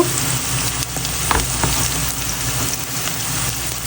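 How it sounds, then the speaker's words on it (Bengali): Onions frying in a pan with sugar and salt added, a loud continuous sizzle with occasional stirring scrapes, close up and without speech. "পেঁয়াজ ভাজতে ভাজতে একটু চিনি দিলাম"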